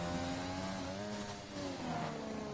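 An F1 car screams around Silverstone on a flying lap in F1 2020, its high engine note climbing and dipping through gear changes, loud and steady with a brief lift around the middle.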